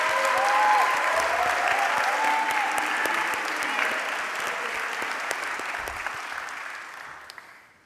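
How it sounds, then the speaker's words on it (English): A graduation crowd gives sustained applause, a thick wash of clapping with a few whistles and cheers that slowly thins and fades out near the end. "Let's give a round of applause."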